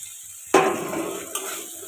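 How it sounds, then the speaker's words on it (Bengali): Soybean chunks drop into a pan of fried spice masala with turmeric and chilli powder, setting off a sudden loud sizzle that settles, followed by a second scrape-and-stir burst, close and without talk. "সয়াবিনটা দিয়ে একটু মশলাটার সঙ্গে নাড়াচাড়া করে নিয়ে"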